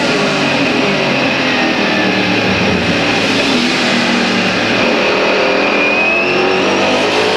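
A Mercedes CLR race car at the 1999 Le Mans 24 Hours roars at full throttle from an onboard position, a loud, unbroken engine howl with steady wind and road noise that never lets up.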